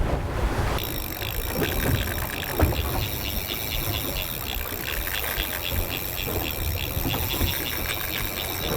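A boat engine in gear drones steadily under strong wind buffeting and rushing water on deep sea, with no clear talking.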